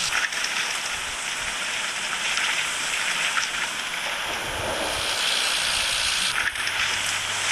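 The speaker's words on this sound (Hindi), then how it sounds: "चलो बारिश हो रही है गाइस डेजर्ट के अंदर।" Steady rain hiss falls over a desert map in the video game Extreme Bike 3D, a continuous broadband wash at even loudness for the whole stretch, with faint low hum underneath.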